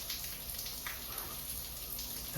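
Rain comes down during an outdoor run, a steady hiss and patter close by with a few louder drops, no speech.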